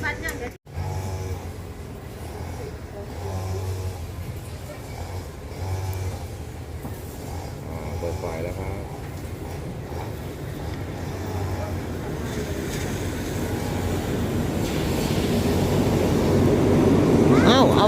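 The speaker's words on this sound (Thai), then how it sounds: "บรรยากาศสถานีพัทลุงครับ" Ambience at Phatthalung railway station in Thailand: a continuous low rumble of engines and vehicles, with a train's engine noise swelling louder toward the end.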